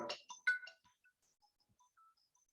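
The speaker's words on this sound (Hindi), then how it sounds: "इसमें किसी का फोन आ रहा है, मेरा फोन इसको काटना पड़ेगा।" Mobile phone ringtone going off during an online IAS history class, a short faint electronic ring at the start that quickly cuts off into near silence.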